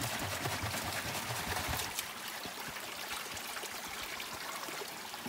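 Water flowing from a natural spring in the countryside, a steady close rush that turns into a lighter trickling stream after a brief shift.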